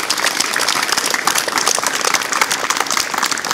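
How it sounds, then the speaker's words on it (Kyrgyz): An audience applauds: dense, loud, steady clapping fills the whole short burst without a break. "Ушуларга өтө чоң ыраазычылык кылып бир кол чаап коебуз"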